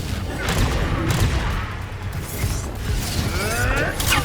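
Rapid crackling blasts and booms of the Confringo explosive spell cast during combat in Hogwarts Legacy, dense overlapping impacts with whooshing magic effects and voices heard amid the fight.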